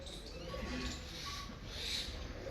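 Jaldar pigeons coo softly and steadily amid a busy loft ambience, a low continuous murmur of several birds close by with faint background noise.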